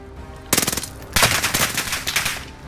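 Rapid automatic gunfire in Call of Duty: Modern Warfare, Rebirth Resurgence mode, loud and close, two full-auto bursts of dense rattling shots with a short pause between them and no talk over them.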